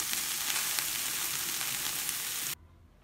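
Minced-meat cordons bleus sizzling steadily in a frying pan, a loud, dense crackle held evenly for a few seconds before cutting off abruptly to near silence.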